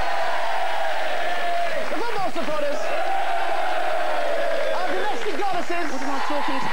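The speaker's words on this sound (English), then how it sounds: "So give yourselves one final round of applause." A BBC studio audience at a national quiz show applauds and cheers in a steady, loud crowd roar that fills the whole stretch, with shouts rising over the continuous clapping.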